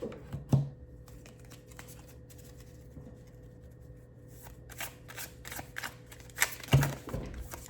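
A large oracle card deck is shuffled in short bursts, soft papery riffles and slides with a couple of sharper card taps, close and quiet, with no talking.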